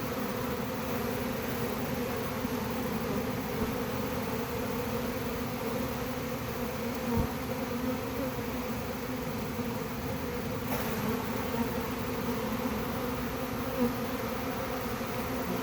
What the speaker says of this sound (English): They're still coming in. This is a pretty good sized swarm.